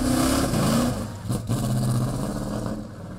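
Race cars at the Saint-Félicien autodrome, engines droning steadily with a brief dip midway as a car shifts or passes, loud and close throughout with no talk.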